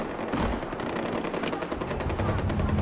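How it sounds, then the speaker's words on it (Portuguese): Gunfire shootout in the video game Far Cry 4: a dense, continuous rattle of rapid automatic shots, loud and close, filling the whole moment without any talk. "Já começou um tiroteio, velho."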